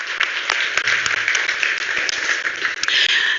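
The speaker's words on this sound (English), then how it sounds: "Let's give him a round of applause, please." A conference audience applauds a vice chairman of the China Council for the Promotion of International Trade at a BRICS business summit panel, steady dense clapping filling the room for the whole stretch without a break.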